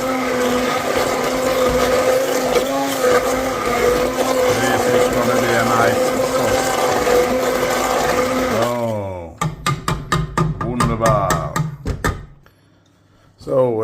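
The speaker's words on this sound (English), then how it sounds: "And I'm just mixing it. I want it to be like a puree." Blender whirring orange sauce into a puree, a loud steady motor drone for about nine seconds that winds down, followed by a string of clunks and knocks as the jug is handled.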